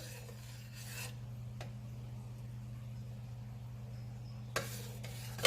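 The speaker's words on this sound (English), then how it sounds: "And then I'm going to give it a stir." A spoon scrapes as cheese is stirred into a Mexican street corn ice cream base, heard as two short raspy bursts at the start and end. A steady low hum, like a heating appliance, fills the gap between them.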